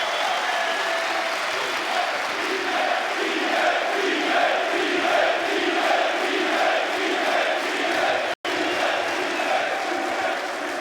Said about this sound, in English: Can we get a cheer for Ema, who is in the house